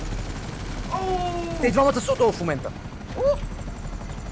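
A helicopter in a video game drones steadily in the background while someone speaks excitedly over it.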